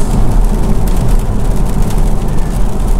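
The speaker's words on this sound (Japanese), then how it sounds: "でなんかどんどん雨強くなってんだけど、これさ今日止むんだよね本当に。" Heavy rain during a Porsche Cayman drive on a highway toward Chichibu, a dense, loud, continuous hiss of rain and road noise with a low rumble beneath, no talk.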